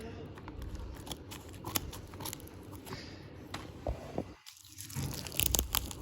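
Scissors snip through the plastic packaging of a makeup setting spray and primer, with several close crunchy cuts and crinkles against a quiet room and a brief hush midway.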